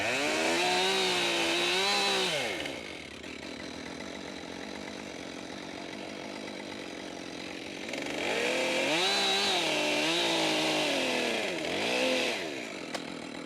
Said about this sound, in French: on va faire nos traits de scie en sorte que la branche c'est quand même soutenue